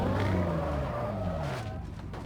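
A police car siren in BeamNG Drive wails with sliding, falling tones over engine and tire noise during a short, loud chase.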